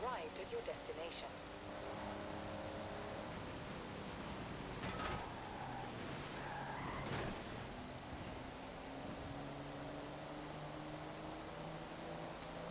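A lazy V6 engine from a 1992 GMC Typhoon in Forza Horizon 4 rumbles at low, steady revs, with a few brief surges early and in the middle before settling into an even drone.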